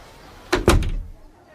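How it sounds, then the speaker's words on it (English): A door is pushed shut in a couple of quick, close thuds, the second heavier, followed by a short fading rumble and near silence. "And the woman closed the door."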